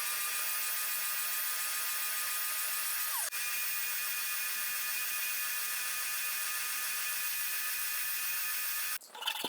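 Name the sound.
bench sander and spindle sander shaping wooden dividers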